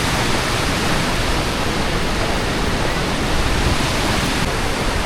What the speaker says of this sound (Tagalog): nandito na tayo sa may Arambeo Falls